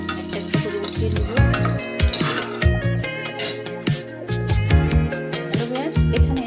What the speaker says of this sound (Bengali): ডিমগুলো আমার ভাজা হয়ে গেছে, আমি একটা একটা করে উঠিয়ে নেব।